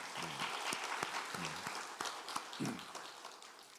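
A Korean church congregation claps, honoring the men's mission groups, with sharp individual claps standing out over a softer spread of applause while voices murmur briefly underneath.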